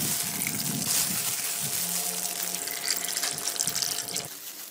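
Water pouring from a tap onto pomelo pith with salt in a bowl, a close, continuous splashing gush lasting a few seconds, then stopping abruptly.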